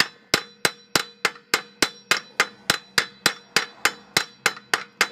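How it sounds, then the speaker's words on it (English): A hammer repeatedly strikes a stuck wheel on a Toyota Avensis, about seventeen sharp metallic clangs in a steady, even rhythm, loud and close with no talking. "Next resort is banging on things with a hammer"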